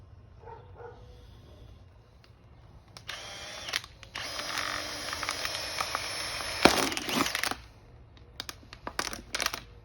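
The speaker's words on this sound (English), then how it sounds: "So just use the same drill and just create a hole in the top and the bottom." Drill boring holes through the top and bottom of a plastic container for a wicking bed: two bursts of whirring drilling, the second longer and louder, followed by clattering, rattling handling noises, recorded close.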